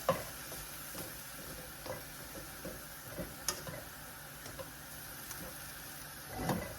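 Cauliflower rice and mixed vegetables sautéing in butter in a pan give a quiet, steady sizzle with occasional faint stirring clicks and scrapes throughout.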